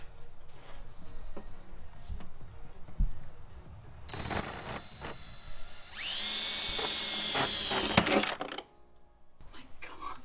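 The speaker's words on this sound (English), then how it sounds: "For these, we're gonna do a 9/64 drill bit." A drill with a 9/64 bit making holes during a Miata strut tower brace install, a short high whine near the end amid small metallic clinks and handling noise, fairly close.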